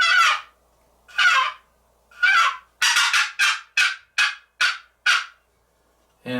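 A hand-worked turkey box call gives several slow raspy yelps, then a quick run of sharp, evenly spaced clucks, all close and crisp with quiet gaps between.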